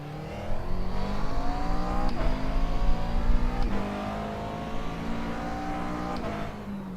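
GT3 race cars roar past at Watkins Glen road course, engines loud and rising in pitch through several gears, with a whirring drone trailing off as they go by.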